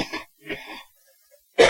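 Throat clearing or a short cough, heard twice as rough bursts early on, then a louder sharp burst at the end after a brief quiet gap, close to the microphone.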